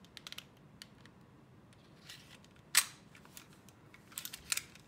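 Small metallic clicks and snaps from reassembling an SRC SR-1911 full-metal CO2/gas blowback pistol, quiet and close, with one sharper click standing out amid sparse handling noises.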